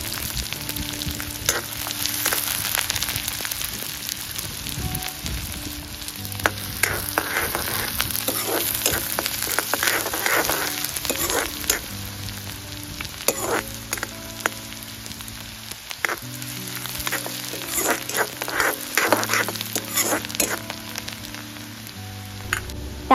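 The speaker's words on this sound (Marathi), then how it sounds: "थोडासा कांदा आपल्याला परतून घ्यायचा आहे." Chopped onion and curry leaves sauté in hot oil in a pan, giving a steady, fairly close sizzle and crackle with occasional stirring scrapes that carry on unbroken throughout.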